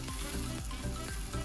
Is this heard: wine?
yes